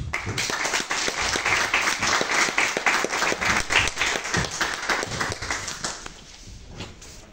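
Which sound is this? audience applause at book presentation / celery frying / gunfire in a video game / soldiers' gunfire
audience applause at book presentation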